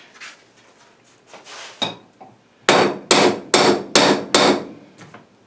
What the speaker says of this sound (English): Get my real hammer.